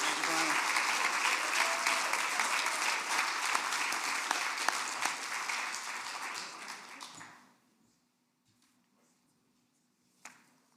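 An awards ceremony audience applauds in a dense, sustained burst for about seven seconds, then the clapping cuts off into near silence broken by one brief later sound.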